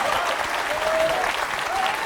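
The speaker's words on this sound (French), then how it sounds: "on vous applaudit très fort" Studio audience on a French TV quiz show applauding steadily, a dense wash of clapping that holds at full strength for the whole stretch, close and continuous.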